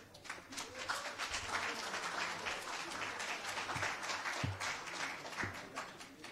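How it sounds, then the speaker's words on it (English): Audience clapping at an NFT investment conference in a large hall, a dense continuous patter of many hands, fairly distant and even, with faint voices underneath. "Clap for all tech people."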